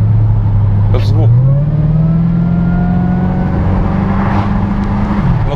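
A 600-horsepower Chevrolet Camaro SS V8 drones through an open window while driving in Saint Petersburg, a loud, steady low rumble that rises in pitch briefly as it accelerates, with faint voices underneath.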